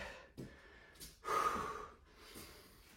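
Heavy exhalations after a home cardio workout, a few breaths spaced out with one long, loud outward puff in the middle, close and alone with no talk.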